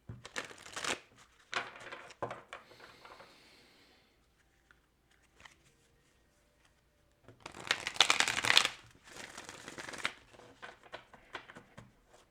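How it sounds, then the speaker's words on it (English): Bursts of tarot cards being riffled and shuffled up close, separated by quiet pauses, with a long loud shuffle in the middle. "One more shuffle, guys."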